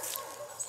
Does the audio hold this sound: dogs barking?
yes